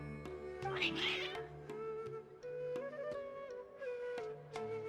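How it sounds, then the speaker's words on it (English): Cats in Genshin Impact meowing repeatedly, several close, agitated calls in quick succession over soft game music. "Your cats seem pretty worked up."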